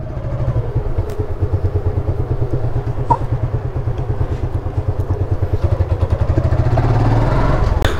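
Motorbike engine running close by with a rapid throbbing putter, rising toward the end as it pulls away; brief voices briefly mixed in.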